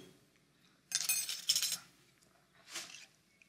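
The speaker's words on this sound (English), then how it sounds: "But I'll stir parsley into the vegetable stew." A spoon works chopped parsley into a vegetable stew in a serving dish, making two bursts of clinking and scraping against the dish amid otherwise quiet surroundings.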